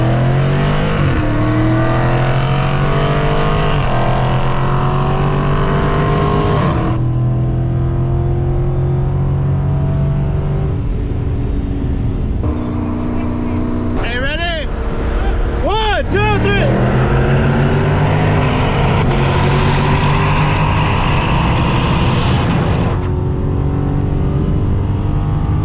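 Modified Dodge Charger RT and Challenger SRT race each other, engines roaring loud and close with rising, falling revs across shifts and a few sharp high whines, talk heard over the motors.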